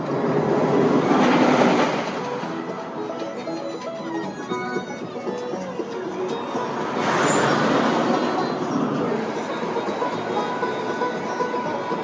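The amusement park railroad at Knott's Berry Farm rumbles past, a continuous rolling rattle that swells loudly twice, with a brief metallic squeal during the second swell.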